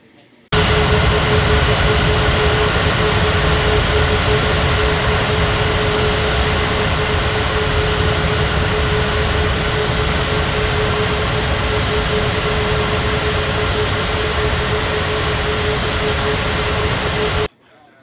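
Jet aircraft engines taxiing at an airport in an air traffic control video game, a loud, steady, close roar that holds for about seventeen seconds and cuts off sharply, with talk faintly beneath it.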